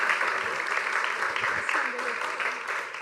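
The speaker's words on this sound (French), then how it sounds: "Allez, on les applaudit bien fort." A crowd claps and cheers in a dense burst of applause, with voices calling out underneath, fading slightly at the end.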